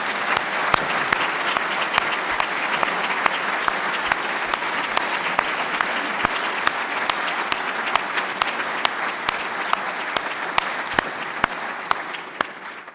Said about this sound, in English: let's just give them a great round of applause